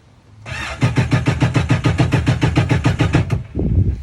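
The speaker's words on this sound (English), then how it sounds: "I'm gonna do this and try starting the engine for around 5 seconds" A Yamaha GP1800R SVHO jet ski engine cranks with the throttle held full, giving about three seconds of steady, rapid, loud starter-motor chugging that cuts off abruptly, followed by a brief rumble.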